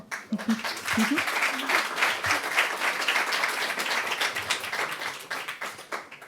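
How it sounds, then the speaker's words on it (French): An audience applauding Anna after a public talk on mRNA vaccines, a full round of dense clapping sustained for several seconds after a few brief voices at the start, tapering slightly at the end. "On va applaudir Anna déjà."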